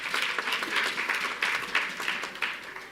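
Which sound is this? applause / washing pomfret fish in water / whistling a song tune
applause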